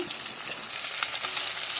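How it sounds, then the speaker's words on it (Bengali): Fish pieces, including small bata fish, fry in hot oil with a dense, steady crackling sizzle, close and fairly loud, holding even through a brief moment. "তো মাছগুলো আমি সব ভেজে নিচ্ছি"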